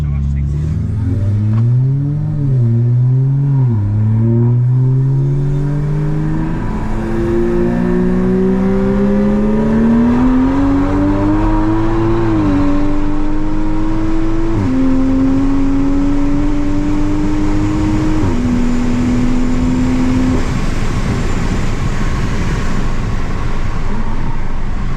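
A Toyota Supra with a B58 engine races a BMW 1M with an N55 on a runway, one loud engine climbing through several gear shifts with rising, stepping revs, then fading into roaring wind, with a voice heard early on.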